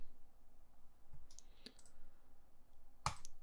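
A single sharp computer mouse click, close and crisp, lands after faint scattered clicks, saving an image file in color-management software in a quiet room.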